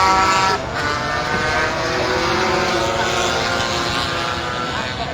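A racing scooter pulls in at Cadwell Park during a CST Super Scooters race, its engine giving a steady, loud buzzing drone that holds at a fairly constant pitch, heard up close.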